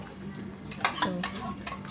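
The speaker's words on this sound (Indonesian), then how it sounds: "Kita aduk-aduk seperti itu biar merata, biar nggak ngegumpal si tepungnya" A spoon stirs thick flour batter for risoles in a pot of boiling liquid. Soft scraping and knocking strokes come close, with a couple of sharper clinks against the pot.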